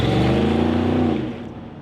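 Ford Raptor with the 6.2 V8 and Corsa exhaust, a loud deep engine rev that holds a strong rumbling tone then eases off and fades near the end.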